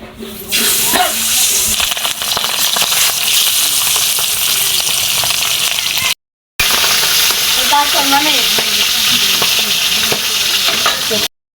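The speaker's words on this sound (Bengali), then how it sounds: "মাছ ভাজা শেষ" Pabda fish sizzle loudly in hot oil in a pan, a dense close crackle that continues throughout, broken by one brief dropout and with a spatula scraping against the pan now and then.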